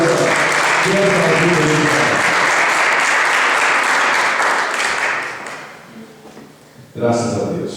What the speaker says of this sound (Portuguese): Uma aplauso ao Senhor nessa